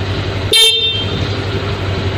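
A Honda Click 125 version 2 Game Changer motor scooter sounds its horn once, a short loud beep near the mic lasting about a quarter second over a steady idling hum.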